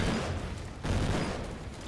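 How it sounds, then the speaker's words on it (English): Rapid flak cannon fire rattles on continuously in the sci-fi tank combat game Armor Attack, a dense, loud, steady barrage of overlapping shots with a brief dip partway through. "my flak cannons can deal a higher sustained damage"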